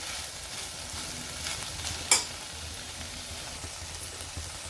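Onion and tomato sauté quietly in a pan, a soft, even frying hiss with a single sharp clink of the utensil partway through.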